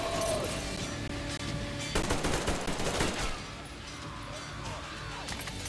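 Gunfire in the game Metro Exodus, a dense burst of rapid shots and crashes over a constant noisy background, with speech running through the clip.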